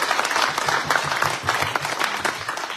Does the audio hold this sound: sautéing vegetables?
no